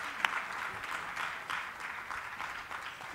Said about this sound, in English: maybe a round of applause would be appropriate